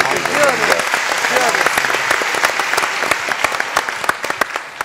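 A studio audience at a music show breaks into loud, sustained applause for a songwriter and teacher, dense clapping close by with voices and a sung or spoken line mixed in at the start.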